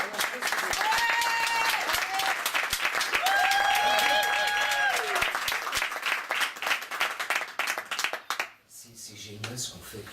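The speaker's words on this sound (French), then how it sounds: "je vais faire des super applaudissements très réalistes" Synthetic, realistic-sounding applause played from a digital system during a theatre rehearsal, a dense steady wash of clapping with whistle-like tones woven through, fading near the end under background noise and voices.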